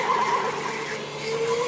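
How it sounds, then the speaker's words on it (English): Go-kart tires skidding on an indoor karting track, a short, moderately loud squealing hiss with wavering pitch, continuous for under two seconds with no talk. "Skidding all over the place."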